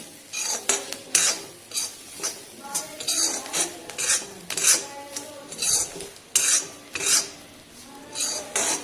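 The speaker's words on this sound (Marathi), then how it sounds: "परत परतून घेऊया कोथिंबीर टाकून" A spoon scrapes and rasps rhythmically against a pan while stirring a dry bitter gourd stir-fry with coriander, repeated close strokes every half second or so, with no talk.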